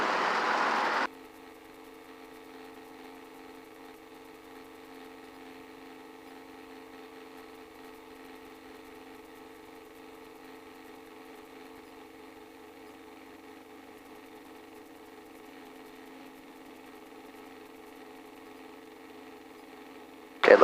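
A Robinson R22 helicopter's piston engine runs steadily while taxiing at an airfield, a constant droning hum with harmonic tones that continues alone for most of the stretch after a brief louder burst at the start.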